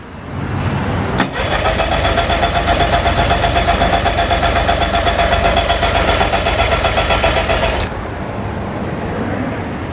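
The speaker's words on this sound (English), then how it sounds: "you wanna keep cranking the engine over until the needle on the gauge stops" Outboard motor cranking over during a compression test, a loud close rhythmic starter churn that runs steadily for several seconds, then cuts off leaving a lower background hum.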